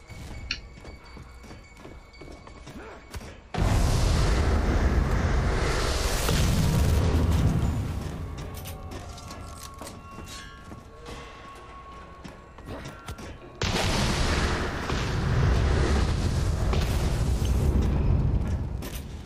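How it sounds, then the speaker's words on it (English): Grenade explosions in the shooter game FEAR 3: two loud, sudden blasts a few seconds apart, each followed by a sustained rumbling roar over a quieter background of game noise. "I threw a grenade by accident."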